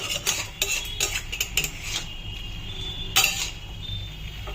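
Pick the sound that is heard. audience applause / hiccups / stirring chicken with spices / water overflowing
stirring chicken with spices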